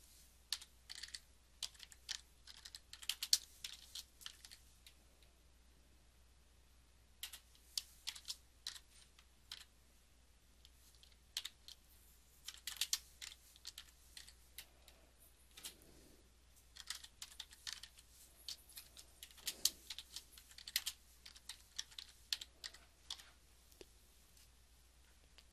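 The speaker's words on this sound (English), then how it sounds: "So we're going to type in our search terms." Search terms tapped out on a computer keyboard: soft, quick clusters of key clicks come in bursts with short pauses, quiet and close, with no voice.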